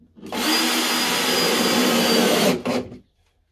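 A power drill whirs steadily while driving screws into timber boxing built around household pipework, a close, loud burst of about two and a half seconds that stops, gives a brief second blip, then falls silent.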